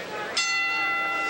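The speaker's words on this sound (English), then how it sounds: "as the bell sounds the end of round number 3" A boxing ring bell clangs once to end round three of a professional bout, a sharp strike that rings on with a long bright sustain over low arena murmur.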